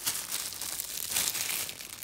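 Plastic packaging from a pair of Vans sneakers crinkles and rustles up close, a dense crackling burst lasting a couple of seconds.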